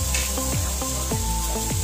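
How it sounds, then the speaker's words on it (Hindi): Ground spice paste frying in a kadhai, a continuous sizzle with repeated scraping stir strokes roughly every half second, close and steady with no talk. "अब उसको जो है कढ़ाई में डाल के भून रहे हैं"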